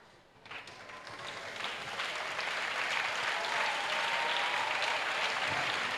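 A congregation at a church healing service in Port-Bouët claps together, applause swelling from a few hands into a steady, dense roar of clapping that fills the room and holds strong throughout.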